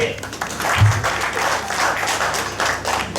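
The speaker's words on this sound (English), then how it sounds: "Can you clap for me?" An audience at a Ugandan plantation and agricultural workers' union gathering claps briefly in scattered bursts, with a speaker's amplified voice continuing over the applause.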